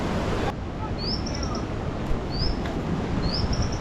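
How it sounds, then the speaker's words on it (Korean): A bird at Huangguoshu Waterfall in Guizhou, China, gives three short, high, rising chirps, spaced a second or so apart, over a loud, steady rush of falling water. "새가 우는 소리가 아주 특이해요."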